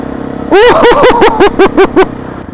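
Suzuki DR650 motorcycle on an icy snowy street, engine close and loud with a series of sharp rhythmic revving bursts, about eight pulses, each rising and falling in pitch.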